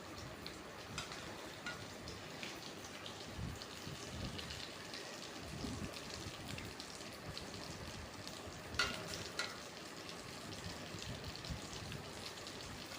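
Egg-dipped bread fries in a pan with a steady, crackling sizzle of hot oil, close and continuous, with a brief louder spatter partway through and no talk.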